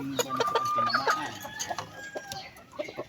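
A fighting rooster clucks in a series of short, close clucks and chirps in an uneven rhythm over a quiet background, with a faint higher call briefly drawn out.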